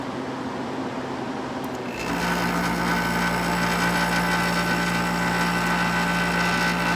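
An early-1960s Welbilt 5,000 BTU Slim window air conditioner switches on after a quiet moment, then runs with a loud, steady compressor and fan hum and a droning tonal whir close by.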